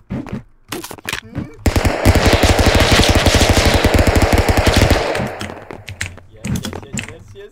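Rapid, dense burst of gunfire from the stick-figure brawler game Stick Fight, loud and sustained for about three seconds, with brief speech and laughter-like bursts before and after.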